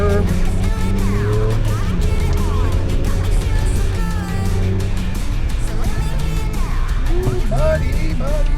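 A 2024 Ford Ranger Raptor pickup slides sideways on a dirt course, its engine droning and rising and falling steadily up close, with occasional tire scrabble and people talking over the noise inside the cab.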